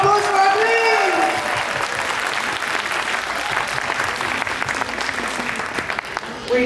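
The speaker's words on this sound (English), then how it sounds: "A big round of applause for our twins!" An audience breaks into sustained applause for twins celebrating their birthday at an event, steady clapping filling the room, with a voice over the start.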